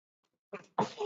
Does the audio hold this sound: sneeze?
yes